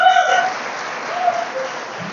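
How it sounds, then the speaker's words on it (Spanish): Audience applause for a birthday during a church service, a brief steady wash of clapping at moderate level that eases slightly and then swells again. "la directora de servicio, Ranoli, un aplauso para ella"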